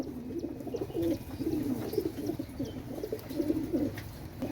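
Pakistani pigeons coo softly in repeated low, throaty phrases, several overlapping calls close by against a quiet background.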